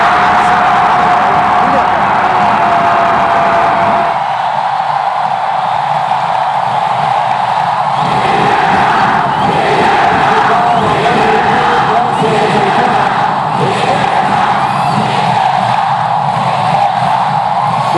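Basketball arena crowd at a 2004 PBA Fiesta Conference Finals game between Barangay Ginebra and Red Bull Barako, roaring and cheering continuously with rising whoops and shouts, loud and dense throughout with a commentator's voice running beneath.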